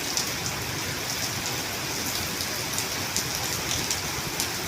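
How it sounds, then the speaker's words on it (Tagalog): Heavy rain pours in a continuous, fairly loud hiss, dense drops pattering on surfaces with small irregular spatters, and no voices present. "Ayun na, uulan, oh."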